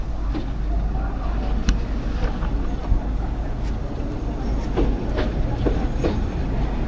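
A Narayanganj commuter train rumbles along steadily with low continuous noise and occasional metallic clicks and clacks, heard from close by.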